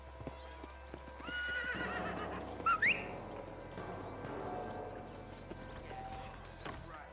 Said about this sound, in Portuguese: agora tá ensinando como chamar o cavalinho